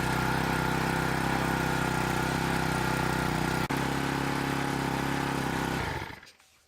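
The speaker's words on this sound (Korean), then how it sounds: "시동이 이렇게 확실하게 걸렸습니다" A Honda GX35 brush cutter engine runs at a steady, loud idle close by, its even buzzing drone continuing with one brief dip before it winds down and cuts off at the end; no talking.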